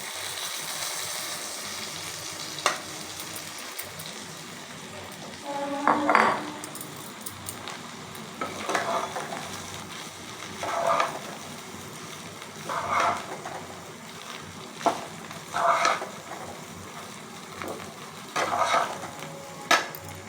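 Flattened rice (chira) tossed and stirred in a frying pan, with a spoon scraping in periodic bursts every couple of seconds over a soft, steady sizzle.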